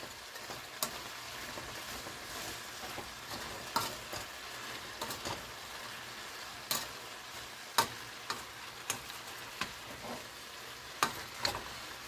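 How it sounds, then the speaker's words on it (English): Smothered cabbage sizzling and frying steadily in a pan while being tossed, with scattered clicks and clatters of stirring standing out over the continuous hiss, close and clear with no talk. "So I'm going to give this a nice toss."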